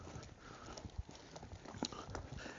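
A horse canters over ground poles during a training session, its hooves making soft, rapid clip-clop thuds on the ground amid faint background noise, with no talk.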